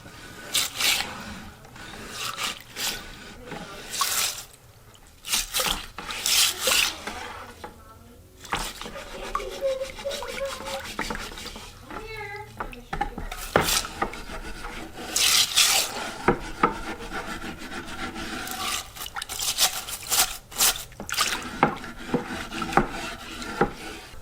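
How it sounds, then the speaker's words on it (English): Scrubbing a muddy metal-detecting find from a schoolhouse dig in a bucket of water, with repeated rough rasping strokes in bursts, close and fairly loud, with brief pauses and faint splashy clatter between. "we're going to soak it and scrub it"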